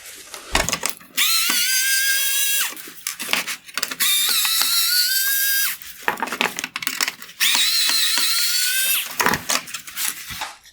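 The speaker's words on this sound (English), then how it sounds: "Next, I will remove the T20 screws holding on the outer turn signal reflector." Three bursts of a high-pitched whirring power driver backing out T20 Torx screws from the turn signal reflector of a 2014-2017 BMW 4 Series bi-xenon headlight, each run a second or two long with clicks and handling noises between.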